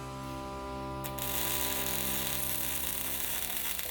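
Machinery runs on the floor of a 24/7 welding, painting and assembly factory building the Ace 900, giving a steady mechanical drone with tonal hum and a ratcheting, grinding rattle that swells louder after the first second.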